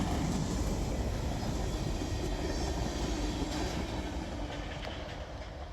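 Norfolk Southern freight train 31T rolls past at night on the D&H line, a loud, steady rumble and rush of railcars with faint clickety-clack, easing slightly toward the end.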